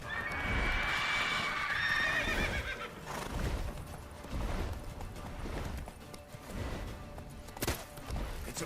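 Roach, a horse in The Witcher Wild Hunt video game, lets out a loud neigh and whinny at the start, followed by galloping hooves thudding steadily with a few sharp impacts near the end.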